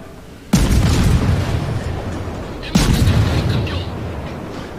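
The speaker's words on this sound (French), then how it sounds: "Et le Bismarck a explosé le Bayern." Two heavy explosion booms from a warship blowing apart in the naval battle game World of Warships, the first a little after the start and the second about two seconds later, each loud and rumbling before slowly fading.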